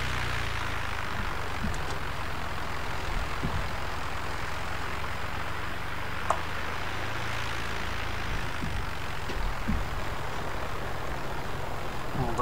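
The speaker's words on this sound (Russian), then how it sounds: "Cessna 182. Взлет, разворот, посадка." Steady propeller drone of a Cessna 182 in Flight Simulator X, a continuous mid-level engine hum with broadband wind noise that holds unchanged throughout, no voices.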